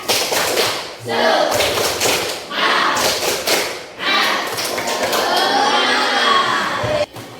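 A classroom of children performs a rhythmic spirit clap, bursts of loud group clapping in a set pattern mixed with shouted chanting, close and energetic, then breaking into cheering and chatter.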